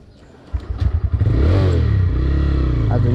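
A motorcycle kicks into life nearby with a quick burst of sputtering pops, then settles into a loud, steady rumbling idle with a slight rising rev.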